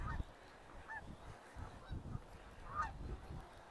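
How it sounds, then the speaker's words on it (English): Several geese honk in bursts as a flock flies over a creek on a cool autumn morning, calls moderately distant against outdoor background noise. "More geese going over."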